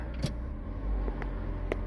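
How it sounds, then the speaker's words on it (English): A 2006 Ford Fiesta engine idles steadily with a low, even hum and a few faint clicks on top, recorded close by with no talking. "As you can hear, the engine's running fine."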